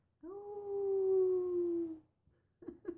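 A person imitates a coyote howl with their own voice: one long, wavering, rising-then-falling tone lasting nearly two seconds. After a short pause come two brief vocal sounds.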